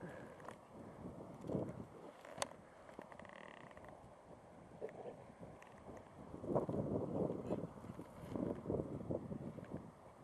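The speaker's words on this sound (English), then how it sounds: "allowing for how windy it is" Steady gusty wind buffets the microphone outdoors, rising and falling in broad low rumbling surges with a few faint knocks.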